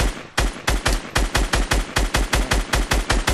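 Rapid automatic gunfire in a VR shooter game, a fast, evenly spaced stream of loud, close shots that keeps going without pause.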